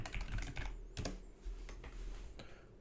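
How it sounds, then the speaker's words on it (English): Keys tapped on a computer keyboard as a password is entered, a quick close run of light clicks over a low steady hum, with no talking. "Let's type in the password."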